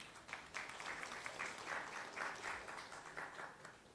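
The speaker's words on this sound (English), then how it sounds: "please join me in giving a big round of applause to our speakers" An audience at the Nepal Infrastructure Summit 2024 claps in a hall, a sustained, dense round of applause that holds steady for several seconds at a moderate distance.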